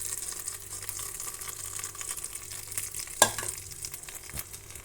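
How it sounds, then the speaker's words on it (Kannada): Sizzling tempering poured into chutney, a fizzy crackling hiss with a sharp splash midway, close and fairly quiet. "ಆಯಿತು ಒಗ್ಗರಣೆ. ಇದನ್ನು ಚಟ್ನಿಗೆ ಸೇರಿಸೋಣ."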